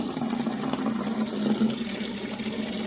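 Remaining water poured out in a steady gush, a continuous splashing and running flow held at an even level throughout, with no voices.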